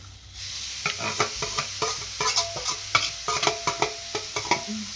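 Grated carrot frying in a pan, stirred in quick rhythmic strokes that each give a soft scrape and click over a low sizzle, close and steady after a brief quiet start, with no talking.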